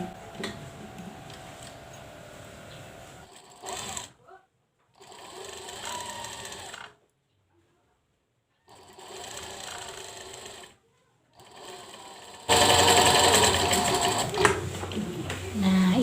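Sewing machine stitching the back seams of a skirt, worked from the wrong side of the fabric, runs in several loud bursts separated by short pauses and ends in a louder, faster run.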